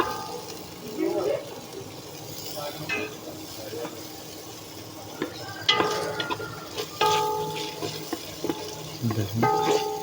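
Chestnuts frying in oil in a kazan and being stirred, with a soft sizzle under scraping and clinking of the utensil against the pot, getting sharper and more frequent toward the end.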